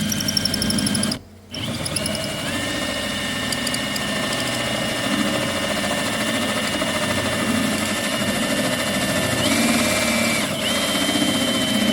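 A drill fitted with a 1-inch hole saw cutting an entrance hole during a bee trap-out: a steady, whining motor drone that runs continuously, with a brief drop near the start and slight pitch shifts as the saw bites.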